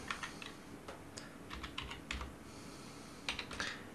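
Soft, quick keystrokes on a keyboard enter a Wi-Fi password while an embroidery machine's network connection is set up, faint and close, in short irregular bursts with brief pauses and no voices.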